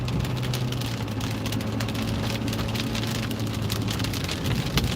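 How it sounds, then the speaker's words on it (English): Steady rain pattering on surfaces on a wet day in British Columbia, a dense continuous hiss of drops close around with a low rumble beneath and no voices. "we're getting ready to do an estimate on this rainy day."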